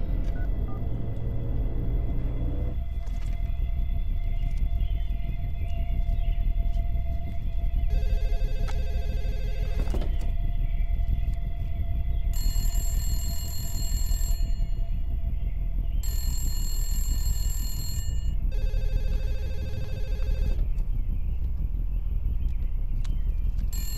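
Repeated electronic telephone rings sound in bursts with pauses between them, over a steady background hum, with no one speaking.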